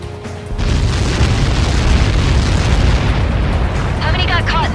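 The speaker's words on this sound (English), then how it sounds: "How many got caught in that explosion?" A massive explosion in the Ace Combat 7 video game, a loud, sustained rumbling roar that rises sharply and keeps rolling for several seconds, with a voice breaking through near the end.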